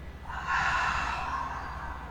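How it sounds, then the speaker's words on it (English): One slow, breathy exhalation through the mouth swells and then fades over about a second and a half, close and soft, with no talking. "Now exhale through your mouth."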